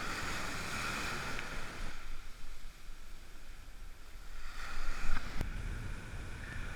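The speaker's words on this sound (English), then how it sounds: "This is a Long Island South Shore beach, an ocean beach." Surf rolls onto a Long Island South Shore ocean beach, a steady wash of broken waves with a brief lull in the middle before another wave surges in and hisses up the sand.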